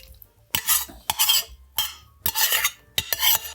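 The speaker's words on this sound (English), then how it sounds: "And now we'll give this a mix." Greek pasta salad gets mixed in a bowl with utensils, producing a few bursts of wet scraping and clattering strokes separated by short pauses, close and fairly loud, with no speech.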